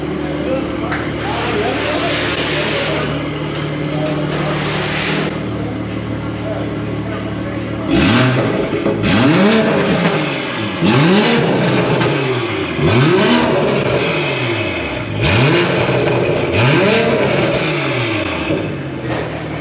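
A car fitted with a Valvetronic exhaust idles loudly, then revs in a run of five or six rising and falling blips. Voices talk throughout.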